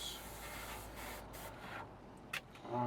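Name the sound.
spray painting model kit parts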